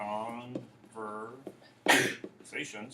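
A person sneezes once, a short loud noisy burst in the middle of ongoing speech, with talk continuing before and after it.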